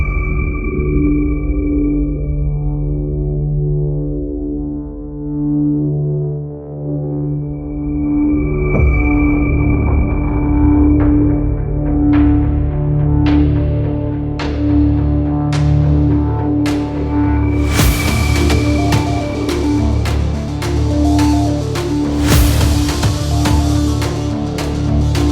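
Synth pads, pings and plucks from the Native Instruments HYPHA plugin: a sustained pad opens alone, then bright plucked and pinged notes enter at a steady rhythm, building into a dense, loud layered texture without speech.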